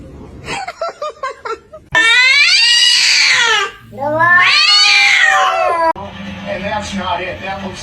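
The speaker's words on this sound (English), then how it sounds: "That looks like a house cat." A house cat meows in a quick series of short calls, then lets out two long, loud, wavering caterwauls up close, followed by softer mewing.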